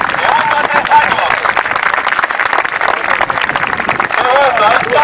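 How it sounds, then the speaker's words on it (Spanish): A live audience applauds steadily at a spiritual gathering, dense clapping running continuously at moderate loudness for several seconds under a lively crowd. "Aplausos por estos hermanos."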